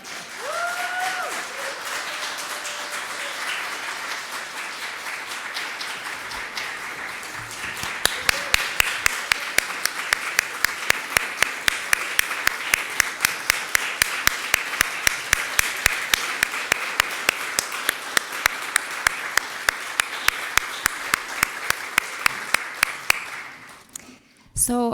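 A congregation at its annual meeting applauds an honoree: sustained, loud clapping that settles into a strong, rhythmic unison beat before dying away near the end.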